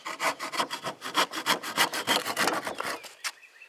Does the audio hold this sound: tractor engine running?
no